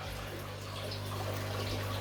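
A hose pours water into a fish tank in an indoor fish room, a steady, soft rushing hiss that carries on unchanged throughout.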